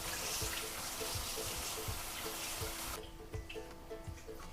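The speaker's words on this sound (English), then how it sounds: "So we'll rinse these off." Dandelion greens rinsed under a running kitchen tap, a steady broadband rush of water with small splashy changes as they are handled, loud and continuous before easing slightly near the end.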